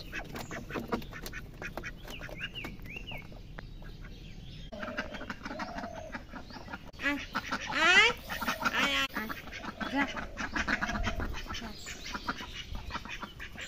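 Several ducks quack nearby in repeated bursts, louder in the middle, over background rustling and faint distant bird calls.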